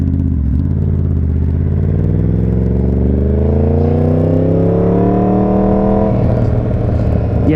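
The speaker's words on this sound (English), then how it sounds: "I love this bike. I love the sound that comes out of it, and I think it sounds better than the KTM." A Yamaha MT-10 motorcycle engine under way, revving up in a steady rising howl through the gear, then dropping to a lower growl after a shift, loud and close throughout.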